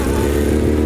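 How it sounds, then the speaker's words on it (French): A motorcycle engine runs steadily and close as the bike begins rolling off during a wheelie lesson, a loud, even, throaty drone lasting under a second. "La moto, elle roule"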